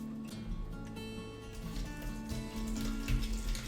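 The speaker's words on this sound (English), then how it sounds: "I'm going to pour it right into the strainer" Watermelon juice pours in a steady, continuous splashing stream into a strainer, close and fairly loud throughout, with no talking.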